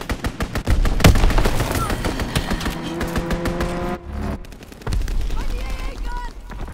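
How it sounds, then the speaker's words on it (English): Enemy aircraft strafing with rapid machine-gun fire in Call of Duty WWII on the Flak Tower map, loud bursts of automatic shots over engine drone and chaotic battle noise, with brief pauses between volleys. "Enemy strafing run incoming!"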